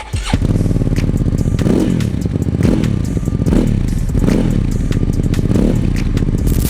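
Benda Napoleon Bob 500 V-twin bobber motorcycle engine running close and loud, a steady lumpy idle punctuated by several revving surges that rise and fall, with no voices.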